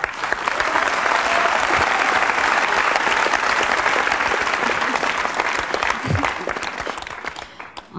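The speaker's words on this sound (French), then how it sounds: "sous vos applaudissements" Studio audience on a French television variety show bursts into sustained, loud applause that holds steady for several seconds, then thins out toward the end.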